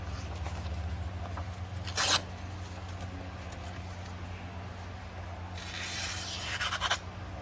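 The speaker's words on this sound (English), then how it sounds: "I go ahead and sharpen my knife." Handmade kitchen utility knife being sharpened, with brief scraping strokes of the blade, one near the start and a longer run near the end, over a steady low background hum.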